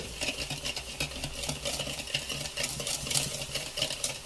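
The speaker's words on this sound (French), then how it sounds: "Donc nous allons fouetter" Sugar and eggs are whisked together for a French pound cake batter, a fast steady scraping and ticking of the whisk against the bowl that keeps a brisk rhythm throughout, fairly quiet and with no talk.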